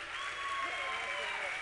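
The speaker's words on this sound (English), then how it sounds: "Please give her a big round of applause." A conference audience at a customer service talk gives steady applause that fills the whole moment, with crowd noise and talk blending underneath.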